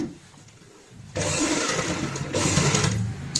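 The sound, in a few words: sewing machine stitching a fabric purse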